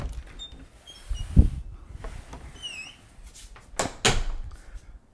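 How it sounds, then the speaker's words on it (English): An interior door is pulled fully shut while leaving a room, giving one sharp low thump near the start, then faint rustling and a couple of later bumps and clicks close by. "I closed that door completely"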